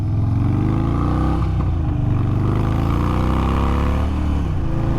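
An Indian Chief motorcycle engine runs loud and close as the rider sets off, its low pulsing note climbing through a gear change with no talk over it.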